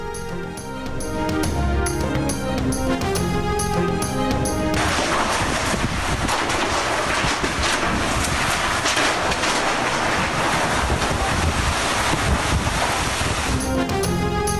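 Loud, steady roar of strong wind with rushing, splashing noise like driving rain in Peshawar, constant throughout after a brief stretch of musical tones at the start.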